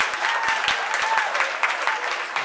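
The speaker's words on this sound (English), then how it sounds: "Let's join together and give Emily a big round of applause too as well for sharing with us." Guests at a wedding reception giving a round of applause, a loud, dense patter of clapping with a few sharp individual claps standing out, continuous throughout.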